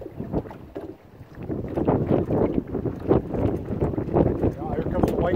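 Strong wind blowing over the water on a fishing trip, a steady gusty rush with fluctuating loudness throughout, with some speech mixed in.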